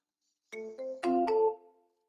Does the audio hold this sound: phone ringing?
yes